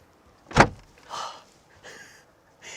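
A sharp mechanical click of a Volkswagen ID. Cross concept car door latch releasing, followed by softer creaks and rustling as the door is eased open, with no talking.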